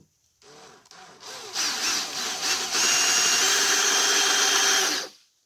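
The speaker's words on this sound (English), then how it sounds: "All right, so we're going to go ahead and drill a hole." A power drill whirs up, bites into a wooden serving tray for its handles and grinds steadily for several seconds at close range, then stops abruptly.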